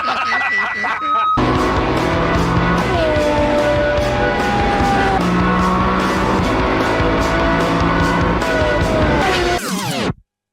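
Top Gear's loud car roars through sustained high revs with shifting engine pitch and tyre squeal, almost unbroken for about ten seconds before cutting off abruptly.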